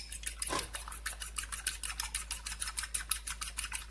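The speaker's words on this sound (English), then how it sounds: "And you just want to whisk it up and fluff it up a little bit." A whisk beats egg and milk, seasoned with salt and pepper, in a bowl, making a steady brisk rhythm of light clinking strokes about four per second, close and clear with no talking.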